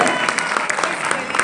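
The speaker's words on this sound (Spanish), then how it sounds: "un aplauso" An audience at a foundation music event claps for a short moment, with scattered individual hand claps standing out over a crowd background.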